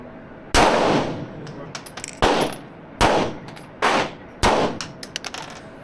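Gunshots at an indoor shooting range in Krakow, Poland: five or six sharp, loud single shots spaced about a second apart, each with a ringing metallic tail and faint clinks between.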